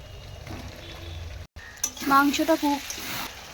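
Fried potatoes and young jackfruit go into partly cooked mutton in a hot pan, giving a steady sizzle with a brief clatter as they drop in, and a few stirring sounds after.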